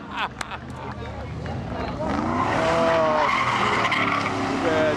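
Late model stock car at Seekonk Speedway losing control, tires squealing and skidding loudly over a roaring engine and crowd noise, the screech swelling midway, with a commentator talking over it.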